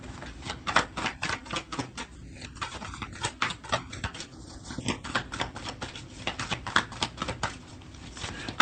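Tarot cards being drawn and shuffled during a love reading, a dense run of quick papery flicks and riffling snaps that continues steadily throughout at moderate, close range.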